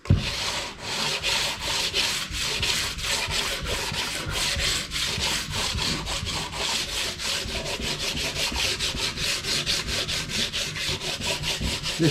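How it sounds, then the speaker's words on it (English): Flat block rubbing the face of a Range Rover TDV8 cylinder head clean, producing rhythmic back-and-forth scraping strokes, close and steady at roughly three to four strokes per second with no talk. "So I'll give that a clean up with a flat block with both cylinder heads."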